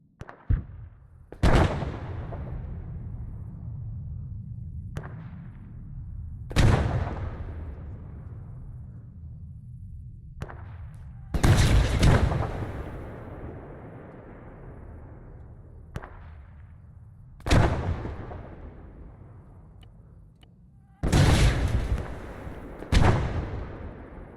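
Video game gunfire aimed at a radio tower at a compound booms in single heavy shots spaced several seconds apart, each loud crack followed by a long rumbling tail, with a couple of shots landing close together near the end.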